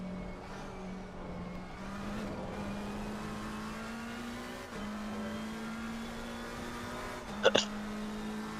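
A single short sneeze bursts out near the end, sharp and brief, over a steady droning race-car engine from a sim-racing session around Kyalami and Watkins Glen.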